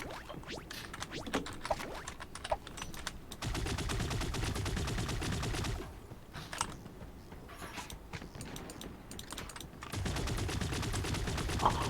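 Rapid gunfire from a shooter game, Creative Destruction, comes in dense bursts of crackling shots with mechanical clicks between them, loud and sustained across most of the stretch.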